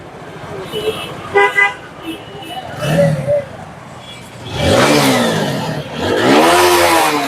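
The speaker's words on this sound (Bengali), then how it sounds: "আর একটি ভাই কিন্তু গাড়িটা স্টার্ট করে দেখাচ্ছে যে গাড়িটার সাউন্ড কীরকম" At an outdoor second-hand bike market in Mirpur 13, Dhaka, a used motorcycle's engine starts and revs in surging bursts amid nearby horn toots and traffic, with people talking over the noise.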